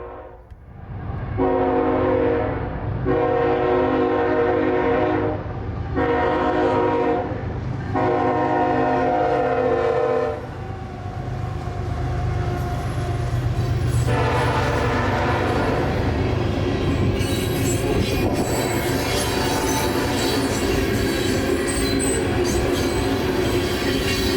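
A CSX coal train of hoppers rolls past at close range, loud and steady, with a sustained horn blast in repeated pulses early on, then grinding wheels and squealing as the cars keep passing.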